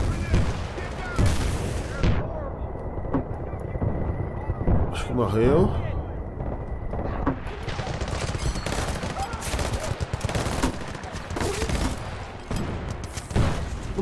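Gunfire from Battlefield Bad Company 2's campaign, with repeated shots, bursts and booms running through the mix under someone talking.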